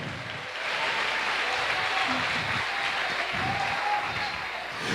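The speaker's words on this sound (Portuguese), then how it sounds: "Aplauda o Senhor." A congregation at a Sunday church service applauds steadily in a dense, continuous wash of clapping that holds for several seconds.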